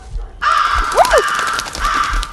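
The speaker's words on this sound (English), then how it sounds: "There's birds in there." Harsh, close caws of crows in the horror game Paranormal Activity VR, a loud sustained raspy burst over a low rumbling ambience.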